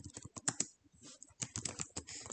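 Rapid typing on a computer keyboard while entering a task in Microsoft To Do, a burst of close, crisp key clicks with a short pause in the middle before the clatter resumes.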